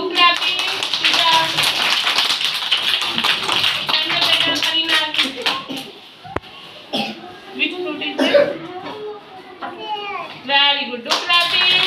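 A kindergarten class of small children claps as a group, a busy patter of many hands mixed with children's voices and a cough, the clapping thinning out in the second half while talk continues.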